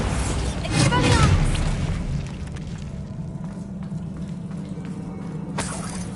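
Bombarda blasting spell exploding in Hogwarts Legacy, a loud booming burst with crackling debris early on, then fading into rumbling game ambience with a voice speaking over it.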